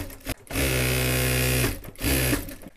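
Sewing machine stitching salwar fabric, running in a loud continuous burst for over a second, stopping briefly, then starting again for a shorter run, with a faint click before it.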